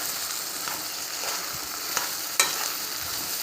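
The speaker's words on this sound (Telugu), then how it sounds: "ఆనియన్స్ ఇది మంచిగా ఫ్రై అవ్వాలి" Onions frying in oil for a cauliflower tomato curry, a steady close sizzle with stirring scrapes and a couple of sharp utensil taps against the pan.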